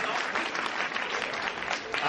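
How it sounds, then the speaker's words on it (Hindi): Audience applause fills a hall at a poetry gathering, a dense, sustained burst of clapping from many hands at steady loudness throughout. "मैं चाहता हूँ घनघोर तालियों का अभिनंदन ये पूरा सदन करे"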